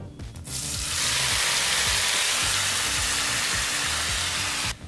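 Raw plantain fries in a spiced oil tempering with a loud, steady sizzle that swells after a brief start and holds evenly until it cuts off.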